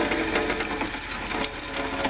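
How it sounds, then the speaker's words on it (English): A small RV fresh-water pump runs steadily in a new plumbing setup, giving a continuous close buzzing drone with a dense mechanical hum and no pauses. "It's unfortunate that the pump is going to run whenever I have the water turned on"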